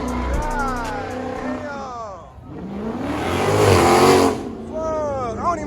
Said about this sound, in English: Burnout everywhere.